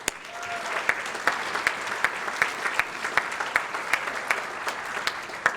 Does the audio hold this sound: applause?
yes